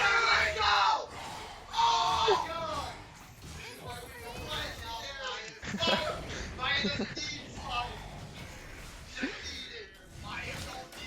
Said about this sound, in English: we are hearing a lot of shouting and screaming